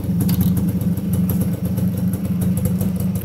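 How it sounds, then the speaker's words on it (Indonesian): A motorcycle engine idles with its original stock exhaust, a steady close throbbing rumble with a fast even pulse and no voices over it. "Ya ini suara knalpot ori kayak gini"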